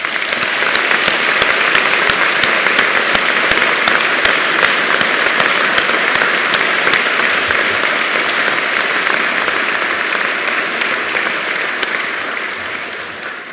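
A large graduation audience gives a warm round of applause for graduates, dense and sustained clapping from many hands, loud and even throughout before easing slightly at the end.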